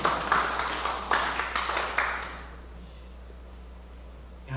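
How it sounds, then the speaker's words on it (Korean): Audience applause at a Korean church evening revival meeting swells in a couple of brief waves of clapping, then fades within a few seconds to near quiet. "박수가 나오죠"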